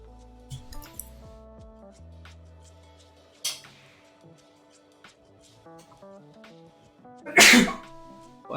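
A single loud sneeze bursts out near the end, close and abrupt, over quiet background music and faint clinks during a relaxed miniature painting session.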